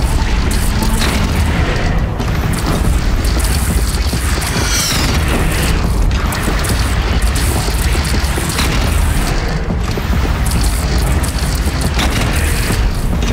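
Cannon fire from a defensive platform during a battle for Meridian in Horizon Zero Dawn, with dense, continuous rumbling booms and blasts layered over constant loud game combat noise.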